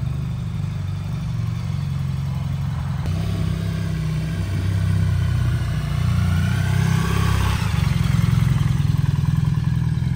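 A BMW R 1300 GS Adventure motorcycle engine runs steadily throughout, a loud close low drone with a rough, clattering edge, rising slightly in intensity toward the end, no talking.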